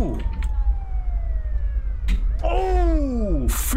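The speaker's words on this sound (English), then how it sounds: "The ambulance is there too." Wailing ambulance siren in the GTA 5 video game, a falling electronic tone followed by a rising and sweeping wail, fairly loud over a low game rumble, with brief clicks and bursts around it.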